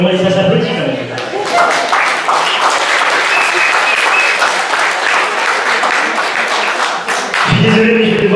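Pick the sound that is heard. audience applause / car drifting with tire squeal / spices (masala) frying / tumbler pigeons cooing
audience applause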